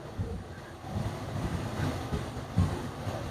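Mild outdoor wind gusting against the microphone on a breezy, not-hot day in the Philippines, a low steady rumble with soft buffets throughout and a stronger gust near the end.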